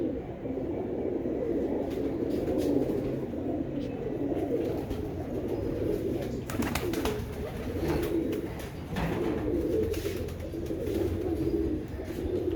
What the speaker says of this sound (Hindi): ये अयूब मर्चेंट साहब के हैं, अयूब मर्चेंट के घर के कबूतर हैं, सब के सब ये।